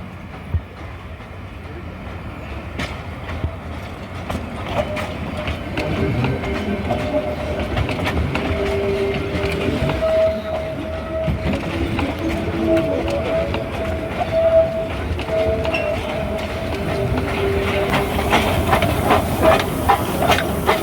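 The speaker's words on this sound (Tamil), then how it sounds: "அடர்ந்த வனப்பகுதி வழியாக பயணிக்கும் இந்த மலை ரயில் பயணம் தனித்துவமானது" A mountain train between Mettupalayam and Udhagai rumbles steadily through dense forest, with rhythmic clanking, hissing, and faint squealing tones from the rails throughout.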